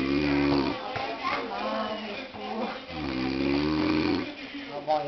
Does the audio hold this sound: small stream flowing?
no